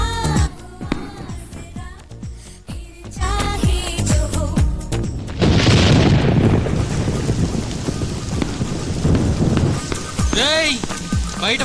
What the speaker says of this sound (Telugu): బయట వర్షం వస్తుంది